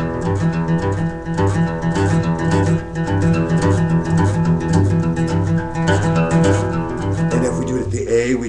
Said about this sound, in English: And the real fast boogies go like this.